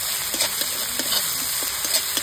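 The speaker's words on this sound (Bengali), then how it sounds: "সব কিছু ভালোভাবে একটু কষিয়ে নিচ্ছি" Turmeric, chilli powder and Kashmiri chilli powder cooking down in a pan: a low, steady sizzle with soft scraping stir strokes at irregular intervals, close and moderately quiet, with no talking.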